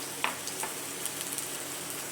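Onions and garlic sautéing in oil for a Batangueño-style chicken adobo, giving a soft, steady sizzle with a few faint pops and clicks, close but quiet, with no talking.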